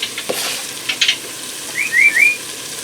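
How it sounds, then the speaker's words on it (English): Vegetables sauté in an Instant Pot, giving brief soft sizzles and scrapes, close and fairly loud, with short gaps between them. A high whistling chirp comes near the end. "we're just going to saute this just for a few minutes"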